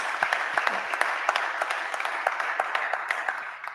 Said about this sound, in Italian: Fatto un grande applauso ai nostri relatori